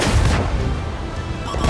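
A tank cannon fires a round in a low-tier tank video game, a loud broadband blast at the start that decays into a rumbling roar, with a fainter crack near the end.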